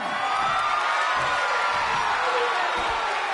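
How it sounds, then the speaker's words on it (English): A dense, roaring crowd in an arena at a wrestling match in the WWE 2K24 video game, cheering and shouting steadily at high volume throughout with occasional thuds underneath. "What a raucous crowd here tonight."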